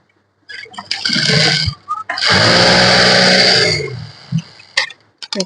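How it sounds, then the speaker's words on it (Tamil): A sewing machine stitches a blouse seam in two bursts, a short one and then a longer steady whirring run, with small taps and clicks around them. "அவங்க கஸ்டமருக்கு ஏற்ற மாதிரி 2, 3 அந்த மாதிரி தையல் போட்டு எக்ஸ்ட்ரா தையல்"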